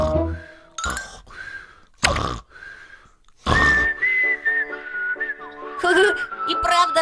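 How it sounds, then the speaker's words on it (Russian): Whistling in a cartoon, used at night to cover a father's snoring: tonal whistled notes, some sliding and wavering, interrupted by short bursts of noise and clinking sounds. "Придется включить свист."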